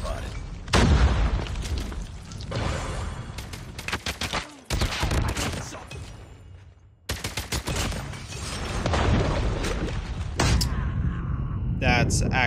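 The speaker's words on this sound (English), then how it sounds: "That's actually a crazy grenade. And that's a contact grenade too." Contact grenade exploding in a video game ranked match, set amid loud continuous gunfire, booms and bursts, with a voice talking over the chaos.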